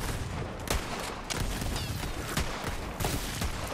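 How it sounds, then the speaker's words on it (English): Rapid gunfire in Borderlands 3, loud sharp blasts repeating in quick irregular bursts over a noisy backdrop of continuous combat. "Shotgun."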